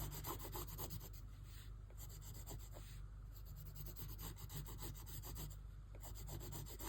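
A pencil rubs and shades back and forth on paper in continuous soft strokes, close and quiet, with no talking.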